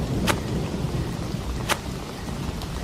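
A cartoon thunderstorm over a paddy field at night: steady heavy rain hisses throughout while two sharp thunder cracks split the downpour, the second louder, with a faint third crack near the end.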